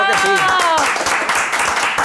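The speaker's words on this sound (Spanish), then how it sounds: "Un aplauso para Cinemati." A small group claps in a podcast studio, a brief burst of quick, close hand claps that starts under a speaking voice and carries on alone for a moment.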